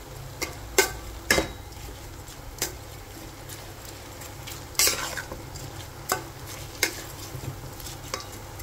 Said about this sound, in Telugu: ఇది ఒక్కసారి ఫ్రై అవ్వనివ్వాలండి టమాటా పేస్ట్తో పాటును.